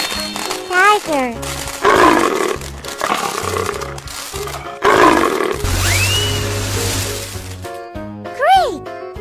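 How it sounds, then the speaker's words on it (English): Cartoon tiger roars loudly several times in a kids' truck cartoon, mixed with childlike voices, grunts and playful sound effects between the roars. "Tiger."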